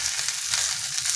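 Batter frying on a sal leaf in a pan over slow-to-medium heat, giving a steady, continuous sizzle with a dense, crackling hiss that stays even throughout and has no voices over it.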